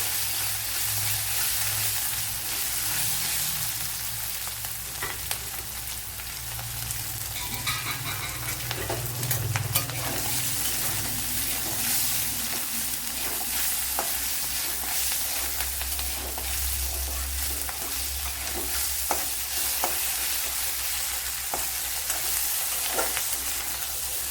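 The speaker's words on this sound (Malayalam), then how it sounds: "ഒരു വൺ ടേബിൾ സ്പൂൺ ഇഞ്ചി ചതച്ചത് അതുപോലെ ഇരുപത് വെളുത്തുള്ളിക്ക് അതച്ചത് ഒരു മൂന്നാല് പച്ചമുളക് ചതച്ചത് നാലെണ്ണം വരും ഇതിനെ ഒന്ന് വഴറ്റിയെടുക്കാം" Crushed ginger, garlic and green chillies sauté in a pan for a gooseberry pickle, a continuous close hiss and crackle with occasional stirring scrapes throughout, and no speech.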